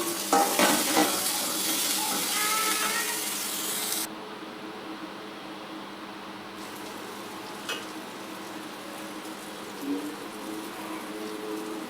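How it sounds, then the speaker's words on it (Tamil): Tomatoes being sautéed in a pan with golden-browned curry leaves for radish greens kootu crackle and sizzle loudly at first, then settle into a quieter hiss with occasional scraping stirs, no speech. "அப்புறமேலு தக்காளி அதோட ஆட் பண்ணி வதக்கிடணும்."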